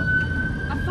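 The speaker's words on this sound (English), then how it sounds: "Yeah, the sound of police." Police siren in a city street, a steady high tone held through a brief moment, heard over traffic rumble.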